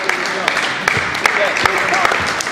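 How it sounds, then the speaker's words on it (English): Audience applause at a volleyball practice, a steady wash of clapping lasting the whole moment with sharper individual claps popping through, fairly close and mixed with voices. "Everyone, round of applause over there."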